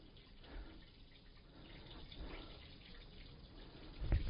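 Water trickling from a small spring in the corner of an old village wash house, a steady soft flow at low level with a brief louder splash or bump at the end.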